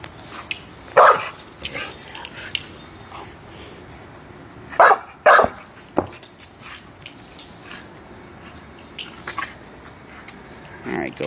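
Playful dog barking in a few sharp, loud bursts separated by quieter stretches, with a person talking intermittently nearby.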